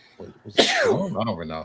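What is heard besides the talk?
sneeze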